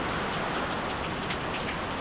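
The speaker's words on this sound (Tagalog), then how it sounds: "Mukhang magtatagal itong ulan." Steady heavy rain pouring on a rooftop deck during a typhoon, a dense continuous hiss with no voices.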